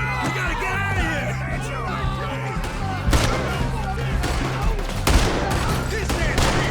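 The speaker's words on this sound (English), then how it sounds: "There he is! Shoot that man!" A Red Dead Redemption 2 shootout: rapid, overlapping gunshots crack close and loud in dense bursts, with shouted voices and music running under the continuous volley.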